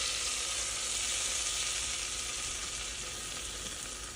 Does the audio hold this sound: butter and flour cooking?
yes